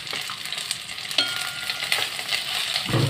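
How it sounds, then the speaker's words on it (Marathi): Okra fries in half a ladle of hot oil in a kadhai while being stirred, a steady close sizzle broken by scraping and clinking of the spoon, no talking. "भेंडी अशी एकसारखी वरचीवर हलवत राहायचं आपण"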